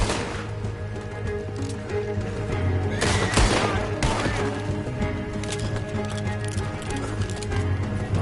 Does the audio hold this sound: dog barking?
no